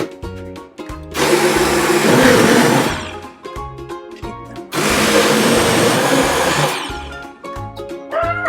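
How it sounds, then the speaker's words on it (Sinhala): Blender mixing coconut milk for Sri Lankan jaggery pudding runs in two loud, close bursts of steady whirring, separated by a quieter pause with small clinks. "දැන් ආයෙ පාරක් බ්ලෙන්ඩ් කරගමු."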